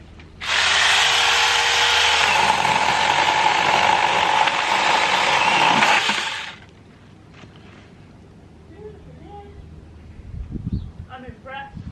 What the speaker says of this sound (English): Do you want to see my chainsaw, June?